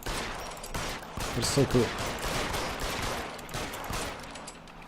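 Gunfire in the video game L.A. Noire, a burst of shots and crackling reports spread across the moment, with a voice talking briefly over it.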